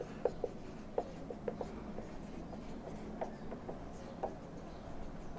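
Chalk taps and scrapes across a board while electronic configurations are written out in a chemistry lesson, with a dozen short irregular strokes close by, quiet and without speech.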